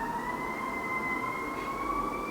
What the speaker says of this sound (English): there's just like another ambulance out there